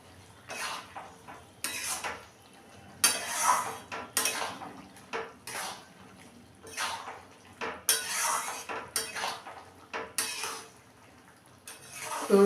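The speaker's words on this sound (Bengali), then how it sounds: "এখন এটা আমি কষাতে থাকবো" Lote fish with chilli and turmeric is worked around a pan by a metal spatula, giving a run of repeated scraping and clattering strokes in bursts over a faint simmer.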